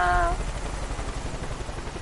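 Helicopter in the Far Cry 5 video game, a steady low rotor rumble and whirring drone filling the short span, with a brief tonal game sound at the start.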